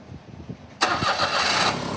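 A car engine cranks and catches after its bolts were replaced, firing up abruptly from a quiet, shuffling background and settling into a steady, loud idle nearby.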